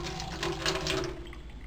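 Water pours from a tap into a measuring cup in a home kitchen, a short close gurgling splash that swells midway and then eases off. Nobody speaks.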